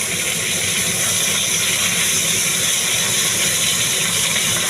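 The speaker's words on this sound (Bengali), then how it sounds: "প্রায় অলমোস্ট ভাজা হয়ে এসছে, আর একটু ভাজা হলে আমি এইটাকে নামিয়ে বাকি মাছগুলো এইভাবে আমি পরপর ভেজে নেব।" Pabda fish, three at a time, frying in oil in a pan, giving a steady, dense, loud sizzle that hisses without pause throughout.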